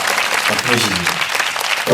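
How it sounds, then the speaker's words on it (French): Steady applause from a group fills the whole stretch, dense and fairly loud, with a voice talking over it. "Ça s'applaudit."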